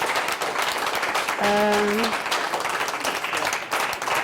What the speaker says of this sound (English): Well, I think you need the clap